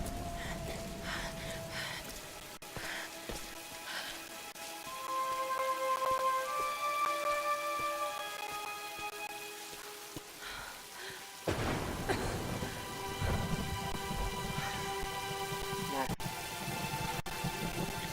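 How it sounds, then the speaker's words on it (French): Rain pours and thunder rolls in a storm in the video game Tomb Raider, a constant wash of rainfall mixed with game music tones, and a deeper rumbling surge about two-thirds of the way through. "Abritez-vous de la tempête."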